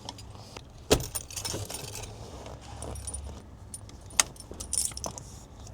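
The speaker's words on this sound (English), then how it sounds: "simply install the extinguisher into its cage" A fire extinguisher is pushed into its metal mounting cage in a Holden HQ, HJ or HZ car, giving two sharp metallic clinks a few seconds apart over a low, steady background rumble.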